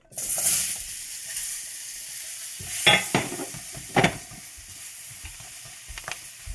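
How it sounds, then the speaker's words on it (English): Prepped vegetables hitting a hot oiled pan, starting with a loud burst of sizzle that settles into a steady hiss, with a few sharp clanks and scrapes of stirring, close up and without voices. "Just a little bit, just to stir fry our vegetable that we have prepped earlier on"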